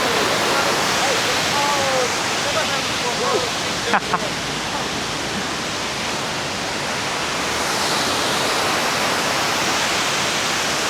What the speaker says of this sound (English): They are enjoying the waterfall.